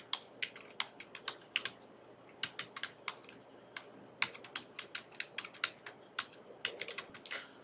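Rapid bursts of computer keyboard typing, close and fairly quiet, with uneven rhythm and short pauses between runs of keystrokes while a description is entered.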